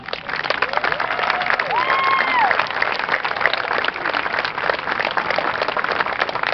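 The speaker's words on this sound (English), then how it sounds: "Please give everyone a round of applause." An audience claps at a high school graduation ceremony for the class of 2018, a steady wash of applause that swells slightly then holds, with a few voices mixed in.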